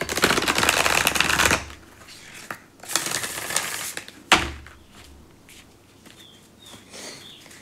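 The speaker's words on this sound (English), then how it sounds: "let me give this a good shuffle first" Angels and Ancestors oracle cards being shuffled in brisk, papery bursts: a long riffle, a pause, then a second burst and a sharp slap, followed by quieter handling.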